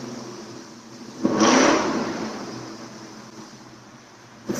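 A car with a loud modified exhaust revs hard at a distance, a swelling roar that fades back into the neighborhood background, with a sharp pop near the end.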